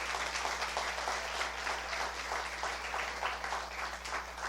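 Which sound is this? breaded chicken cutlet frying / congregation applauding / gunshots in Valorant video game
congregation applauding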